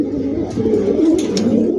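A pair of large racing pigeons, a hen and a cock with eggs, cooing close by: a low, rolling, continuous coo lasting under two seconds, with soft flutter-like noises above it and no talking.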